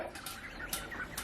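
Poultry cluck and chirp in a pen holding ducklings and goslings, a few short soft calls in quick succession, faint and close with no talking.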